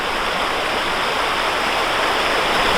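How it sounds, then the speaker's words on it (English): Water rushes steadily through a gold sluice box outdoors, a dense, continuous loud splashing flow with no pauses. "Then I'm gonna run it through the sluice box."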